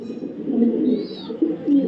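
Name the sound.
male racing pigeon cooing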